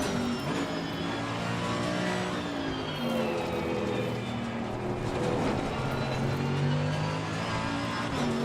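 Race cars in the racing game Assetto Corsa Competizione roar continuously, with engines revving up and down through gear changes and loud steady engine noise throughout.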